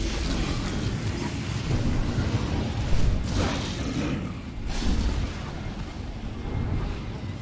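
Rumbling thunder from a thunderstorm in the game Star Wars: The Old Republic, a steady low roar with a louder crack partway through, under continuous storm noise and occasional talk.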